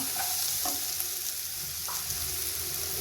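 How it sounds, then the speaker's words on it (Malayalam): Okra added to a hot pan for aloo bhindi rice, a steady soft sizzle with a few brief stirring scrapes, with no talk. "ഇനി നമുക്ക് വെണ്ടയ്ക്ക ഇട്ട് കൊടുക്കാം."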